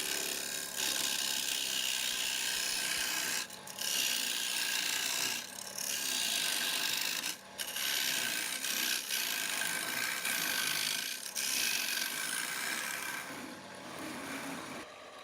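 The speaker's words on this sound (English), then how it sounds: "Now I take my carbide cutter and start to hollow out the inside." Carbide cutter hollowing out the inside of a live-edge wooden bowl on a lathe, giving a steady loud scraping and rasping with brief pauses where the tool lifts off the spinning wood.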